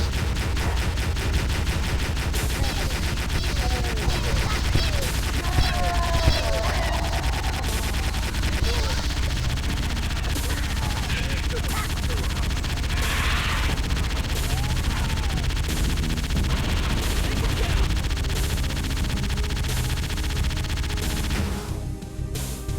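Salt gun firing in the Cursed Halo game, a dense, continuous clatter of shots and impacts layered with game noise for over twenty seconds, loud and steady before cutting off at the end.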